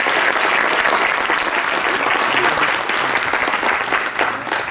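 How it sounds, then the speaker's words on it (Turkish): A crowd claps loudly and continuously at an outdoor political campaign event for a mayoral candidate in Hendek, dense applause filling the whole stretch with no pauses. "Alkışlar alalım arkadaşlar"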